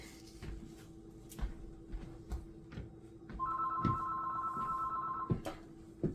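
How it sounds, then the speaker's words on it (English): An electronic phone ringtone trills for a couple of seconds amid scattered knocks and handling clatter in a 3D bloom bowl-shaping workspace, fairly quiet and nearby. "excuse my phone ringing"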